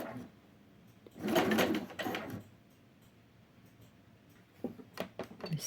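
Sewing machine stitching a t-shirt, running in two short bursts of rapid mechanical stitching near the start, then quiet, followed by a few brief clicks and handling sounds at the end.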